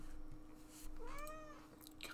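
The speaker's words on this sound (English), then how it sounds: "Meow." A single cat meow, close and clear, rising then falling over about half a second, with a steady low hum of game ambience beneath it.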